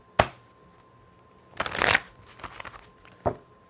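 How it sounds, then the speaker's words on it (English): A deck of cards is shuffled by hand in short bursts: a sharp riffle, then a longer fluttering run, then a few quick flicks and a final snap, close and crisp in a quiet room. "Let's get a little shuffly."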